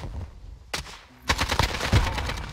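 Video game gunfire from an electric AK-47 or MP7: a single sharp shot, a pause, then a quick rattling burst of several rapid, close shots.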